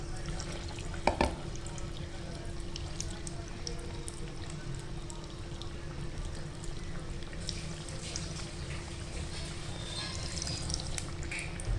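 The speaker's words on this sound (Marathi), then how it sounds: "आता तो पण तेलात फ्राय करायला सोडले" Besan-batter-dipped batata vada for butter vada pav frying in hot oil: a faint, steady bubbling sizzle that runs unbroken throughout at low level, with a low hum underneath.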